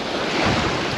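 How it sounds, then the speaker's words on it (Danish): Wind and waves at the sea shore on Ærø, a loud, continuous rushing roar of surf mixed with gusty wind buffeting the microphone. "Det er det her med, når vinden lige pludselig går i en anden retning."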